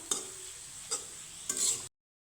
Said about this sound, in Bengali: আমি নুন হলুদের সাথে একটু পেঁয়াজটাকে সুন্দর করে ভেজে নেবো